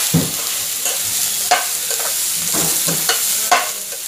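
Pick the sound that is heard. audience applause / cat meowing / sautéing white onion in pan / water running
sautéing white onion in pan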